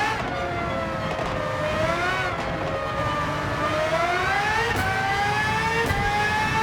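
A GR3 class race car engine in the Gran Turismo 7 video game, revving steadily on gentle throttle with a rising and falling whine, plus brief sharper bursts near the end.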